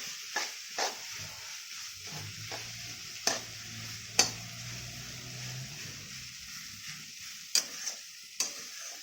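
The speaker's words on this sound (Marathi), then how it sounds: "आपण दोन तीन मिनटात आणखीन परतून घेऊ" Vegetables, a dish of ambadi leaves, are stir-fried in a pan over a faint low sizzle, with scattered sharp taps and scrapes of the spatula now and then, quiet and close, with no voices.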